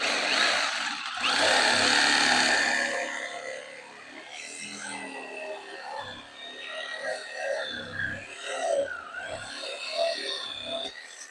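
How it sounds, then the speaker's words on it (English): A Sawzall reciprocating saw grinds through a bolt head on an aluminum boat trailer's sideboard, a loud, harsh burst of cutting at first and then rougher, uneven rasping and clanks close by. "Got the Sawzall out."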